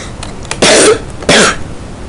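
A person with a cold lets out two loud, harsh coughs close to the microphone, each about a third of a second long, with a short pause between them.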